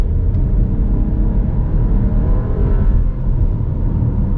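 Chevy Trailblazer 2021 with the small 1.3 liter engine pulling hard in sport mode, a continuous loud low rumble and whir from the cabin with a slight dip near the end.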